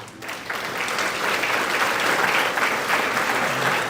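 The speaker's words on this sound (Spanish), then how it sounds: "Vamos a dar un aplauso a los que ya la leyeron." A church congregation at a Catholic Mass claps for those who have already read the Bible, a broad, steady round of applause that swells slightly after a brief start and carries on without any voice.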